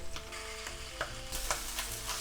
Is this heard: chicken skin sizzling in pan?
yes